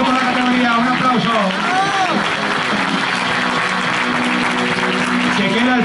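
Applause for the winners of the over-40 masters bodybuilding category at a Spanish national championship in Parla, crowd clapping continuously beneath a loud announcer's voice and background chatter.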